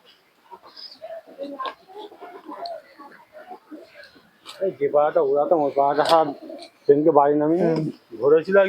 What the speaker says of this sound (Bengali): দেখুন পায়রাটা দেখুন কত সুন্দর